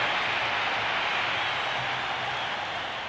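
Hometown ballpark crowd in Philadelphia at the 1983 World Series cheering Joe Morgan's home run for the Phillies, a broad sustained wash of applause and roaring voices, loud and unbroken, gradually easing toward the end.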